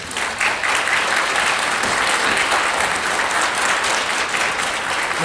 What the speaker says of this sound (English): Let's clap and applaud for our own hands.